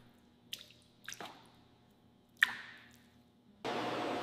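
Fresh cheese curds are poured into molds or trays, giving a few scattered wet drips and soft squishy plops, then a steady stream of running liquid at the end.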